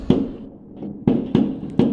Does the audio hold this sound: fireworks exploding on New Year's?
yes